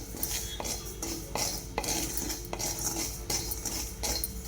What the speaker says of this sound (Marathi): तेल तूप काही न टाकता भाजून घ्यायचं फक्त बघा पूर्ण भगराचा कलर बदलला आहे